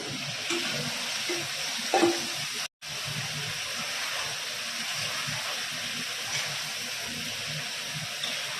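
Meat frying in hot oil seasoned with Kashmiri chili powder, a steady close sizzle and hiss with a brief clatter of stirring about two seconds in.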